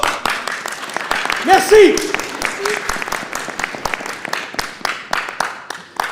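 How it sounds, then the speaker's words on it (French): An audience claps loudly and steadily for a long-serving staff member at an event, with a brief voice rising over the applause near the start. "On applaudit bien fort!"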